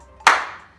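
One sharp hand clap rings out during a home bodyweight cardio warm-up, a single crisp slap with a short decaying tail in a quiet room.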